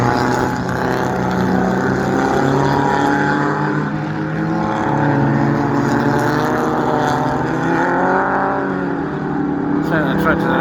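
Vintage racing cars lap the Castle Donington circuit, with continuous engine roar and shifting revs as they pass close by. The sound is loud and sustained throughout, with voices mixed in underneath.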